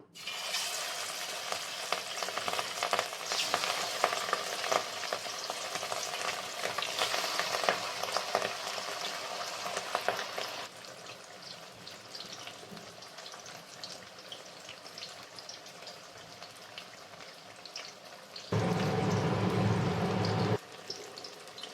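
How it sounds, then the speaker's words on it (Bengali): Katla fish pieces fry in hot oil in a wok with a steady, close, crackling sizzle that runs loud, then settles quieter, and swells briefly near the end. No one speaks. "মাছগুলো ভেজে নেব।"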